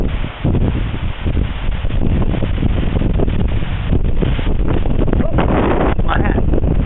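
Strong wind buffets the microphone on a fishing boat out on the water, a steady loud roaring rumble that persists throughout, with a person talking faintly under it.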